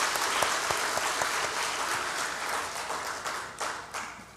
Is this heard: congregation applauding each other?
yes